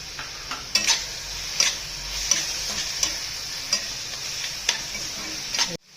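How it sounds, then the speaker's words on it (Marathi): Chopped tomatoes fry in a pan over a coriander paste. A continuous sizzle is punctuated by regular, sharp spatula taps and scrapes roughly every second, close up, and it cuts off abruptly at the end. "आता त्याच्यामध्ये टोमॅटो टाकून घेऊया"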